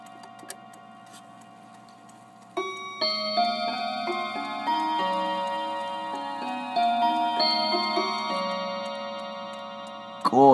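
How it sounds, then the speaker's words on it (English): Half-hour chime from a pendulum clock: a longer run of bright bell-like notes struck one after another in a melodic pattern, resonant tones sustaining and overlapping, close and clear with no talking. "We'll go for the 1/2 chime."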